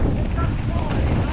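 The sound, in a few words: strong wind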